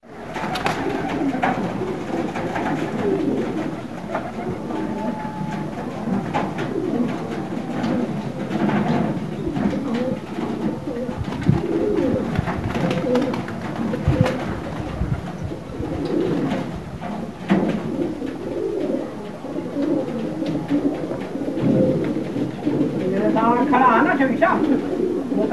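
Pigeons coo steadily throughout, soft rolling calls close by, with people talking over them and some outdoor background noise.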